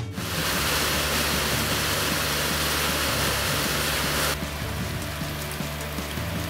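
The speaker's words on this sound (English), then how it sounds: "Listen to the rain." Heavy typhoon rain at night in Japan pours down in a dense, continuous roar, steady and loud throughout, with a slight drop in brightness near the end.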